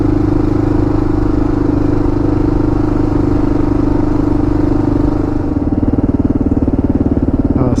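An adventure motorcycle rides along a fresh, rut-free sandy track, its engine droning loudly and steadily up close. Near the end the note shifts into a pulsing, chugging tone.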